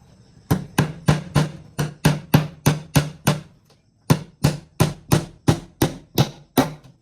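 A hammer drives nails with about twenty sharp, evenly paced strikes, close and loud, broken by one brief pause midway.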